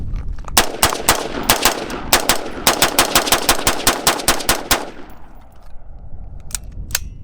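A Radian Model 1 AR rifle fires a long, fast string of sharp, loud shots in close succession, each crack ringing briefly, then the shooting thins to a couple of isolated shots after a pause.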